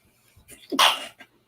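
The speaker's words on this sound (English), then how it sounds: "Oh gosh, I feel a sneeze coming on, y'all." A single sharp sneeze bursts out close by after a short sharp intake of breath, followed by a faint exhale.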